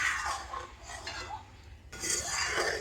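Watermelon dessert mixture being stirred in a pot as it thickens near the boil, giving a steady scraping and clinking of a utensil against the pot with soft sizzling, moderately close and with no talking.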